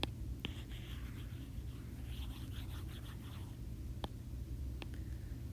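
Faint scrubbing and rubbing strokes as writing is wiped off a board in a quiet room, with a few sharp little taps along the way.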